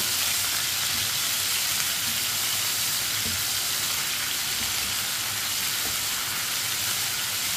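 Chicken frying in a pan over a lowered flame while a spoon stirs it, giving a steady, close, dense sizzle that holds evenly throughout with no talking.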